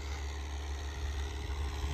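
A New Holland 850 tractor engine runs steadily while driving a rotavator in a field, a continuous heavy low drone with even vibration, fairly faint and unbroken.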